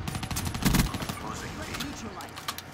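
Gunfire in Black Ops 3, a quick burst of automatic shots with a heavier thump early on, moderately loud under game ambience, while a player talks.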